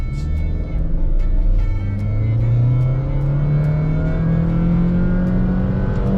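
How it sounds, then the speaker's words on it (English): A 2023 Honda BR-V 1.5V crossover accelerates hard on an empty road, its engine note climbing steadily in pitch through a single long pull, loud and close with constant road and wind noise beneath. "It looks like the perfect place to do an acceleration run."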